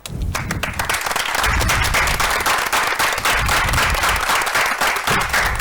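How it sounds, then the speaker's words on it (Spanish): Loud, close audience applause with dense clapping and some crowd noise, a strong ovation sustained throughout at the close of a show. "Un fuerte aplauso."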